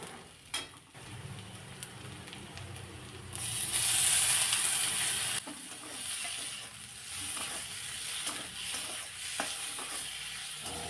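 Chopped tomatoes sauté with methi (fenugreek) greens in a pan, a quiet sizzle with occasional stirring scrapes, swelling into a louder hiss for a couple of seconds midway before settling back.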